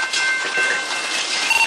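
Train on railroad tracks dragging a car along with people inside, a loud continuous grinding rumble with metallic scraping and a thin squeal throughout, with no talk.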